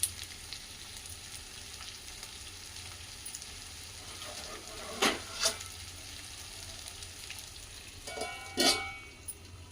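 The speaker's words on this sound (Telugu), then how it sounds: "ఆలుగడ్డ కొంచెం నూనెలో మగ్గితే బాగుంటుందండి" Potato pieces frying slowly in a little oil, giving a low steady sizzle throughout with a couple of brief louder stirring scrapes near the middle and end.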